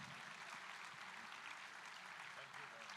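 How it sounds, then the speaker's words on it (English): A room of guests claps at the welcome lunch of the Energy Markets Forum, a faint, distant, evenly sustained patter of applause with no break. "Another round of applause."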